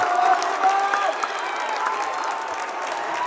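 An away crowd at a boys high school basketball game between Viewmont and Highland cheers and applauds loudly and steadily, with whistles and shouts mixed into the sustained roar.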